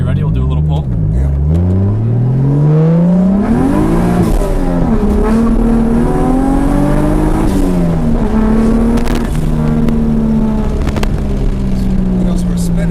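A project car accelerates hard with its wheels spinning, the engine note climbing and falling through loud, sustained revs from inside the cabin while people talk over it.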